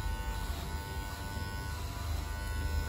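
Electric hair clipper buzzing steadily during a buzz haircut, a close, continuous motor drone with mains-like hum, fairly quiet and without talk.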